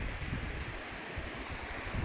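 A small river flows beneath an old stone bridge on a countryside hiking trail, making a continuous broadband rush of water that stays steady and moderately loud for a short moment, mixed with some wind noise.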